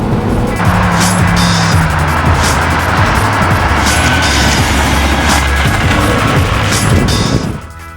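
Renault Megane Estate GT 220 turbo accelerating hard, a loud close engine roar with rising pitch through gear changes and road noise, easing off abruptly at the end.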